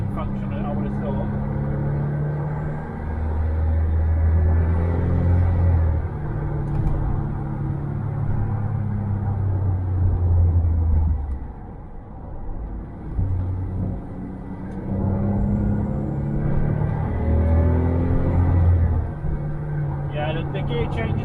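Engine drone of a Smart Brabus Roadster on the move in full automatic, with slow, lazy gear changes audible as the revs rise and drop. Someone talks steadily over the low cabin rumble.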